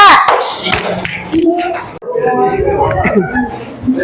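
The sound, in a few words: classroom group clapping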